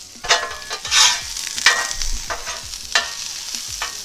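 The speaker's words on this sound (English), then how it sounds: "We get some oil down and saute up some onions." White onions sautéing in oil on a Blackstone griddle, a steady sizzle broken by repeated spatula scrapes and stirs at irregular intervals, close and moderately loud with no talking.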